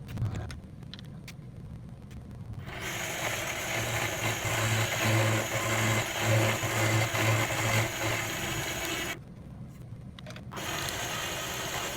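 A Bridgeport-style milling machine starts up and runs in a metal shop, a steady mechanical hum with a low rhythmic throb holding for most of the stretch before the sound briefly drops and then resumes.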